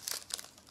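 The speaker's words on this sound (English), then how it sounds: "But there's just like that crinkling sound" Plastic crinkling of a trading card booster pack wrapper for Legions Realms At War, heard as a few quick, close crackling bursts in under a second with no talking.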